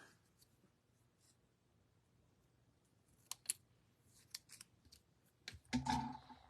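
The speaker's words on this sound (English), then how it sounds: "I'm going to use my little scissors." Small scissors snipping paper, a few soft, scattered clicks before a louder burst of sharp cuts near the end, faint and close in a quiet room.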